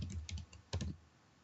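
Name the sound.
typing a word on a computer keyboard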